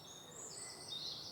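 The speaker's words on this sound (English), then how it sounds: "You hear the birds in the background" Faint, distant birdsong in woodland during a squirrel hunt with a silenced air rifle, thin chirps over a quiet outdoor hush.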